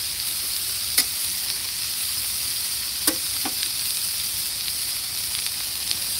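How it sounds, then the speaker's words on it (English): Onions sautéing in bacon grease at an outdoor lakeside cookout give a steady close sizzling hiss throughout, with a few sharp pops and crackles standing out briefly. "We're sauteing those up in the bacon grease."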